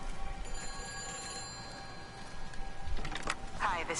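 A telephone rings in the video game Everybody's Gone to the Rapture, a faint steady ringing set against a quiet ambient background, with a brighter burst of sound near the end.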